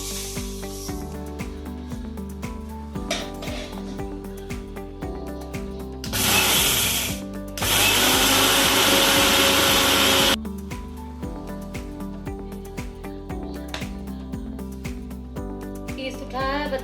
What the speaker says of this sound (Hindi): चल रहे हैं मिक्सर ग्राइंडर करने।